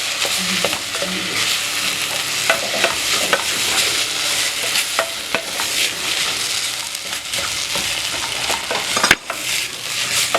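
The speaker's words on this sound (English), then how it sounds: "we can now add our already pre-cooked onion, just like that. Then we continue stirring" Pre-cooked onion for samosa filling stirred in a pot, a steady loud sizzle of frying oil under repeated scraping and knocking of the spoon against the pot, close and continuous.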